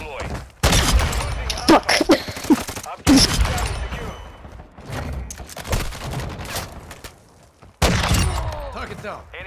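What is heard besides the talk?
gunfire in a military video game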